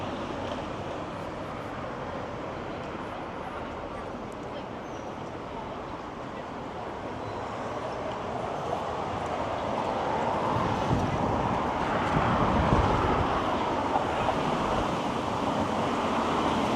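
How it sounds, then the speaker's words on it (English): Strong wind whips the trees along a Toronto street near Bathurst, a continuous rushing roar that swells louder past the midpoint. "See how the wind is just whipping the trees"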